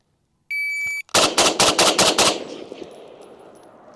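A steady electronic timer beep sounds before an FN FNC rifle fires six rapid, loud, sharp shots in quick succession outdoors, followed by a fading echo.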